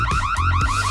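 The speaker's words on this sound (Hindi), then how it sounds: "अलार्म क्यों बजाता है?" Alarm rings continuously and loudly, a rising electronic siren tone sweeping repeatedly in quick cycles, with no voices over it.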